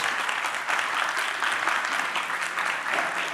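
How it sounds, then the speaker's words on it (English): A crowd applauding steadily at a film school awards ceremony, dense clapping filling the space at an even level from start to finish. "Join us in applause here."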